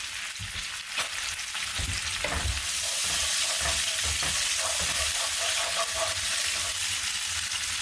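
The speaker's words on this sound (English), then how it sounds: "I'm going to let this cook for just a little bit until the volume reduces by about half" Marinara sauce with half a cup of red wine cooking down in a pan, a few stirs and knocks at first, then a steady, close hissing sizzle that continues unbroken.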